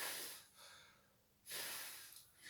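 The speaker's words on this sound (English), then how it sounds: "with my breath I can move this small bundle of paper strip if I exhale my breathing with strength" Two strong breathy exhales blown onto a small bundle of paper strips, each a close, airy rush of breath with a short pause between them.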